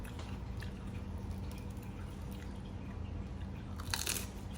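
Someone bites and chews a crunchy fried pork spring roll up close, soft continuous crunching and mastication with a sharper crisp bite near the end.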